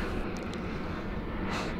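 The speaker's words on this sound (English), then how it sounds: "There's an airplane above us." An airplane flies overhead a neighborhood, heard outdoors as a steady, broad roaring rumble at moderate volume, with some wind buffeting on the microphone.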